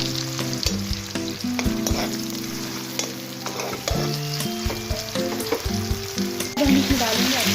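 Cumin seeds sizzle and crackle in hot oil in a pan during a home cooking session for moong dal, with a steady, close frying hiss alongside stirring and background music, with no speech.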